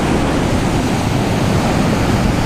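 Strong, steady wind roars at an Australian surf beach during salmon fishing, a loud broadband rush with surf mixed in, unbroken for the whole stretch and free of any voices.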